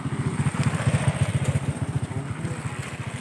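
A motorcycle engine idles nearby with a rapid, regular pulsing putter, loud and steady, the beat slightly irregular toward the end, with no voices over it.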